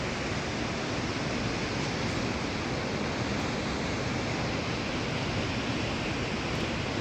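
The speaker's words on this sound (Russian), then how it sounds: "Мощный поток, конечно." Tobot waterfall's powerful flow roars as a steady, dense, unbroken rush viewed from a canyon overlook, loud and constant for the whole stretch with no voices.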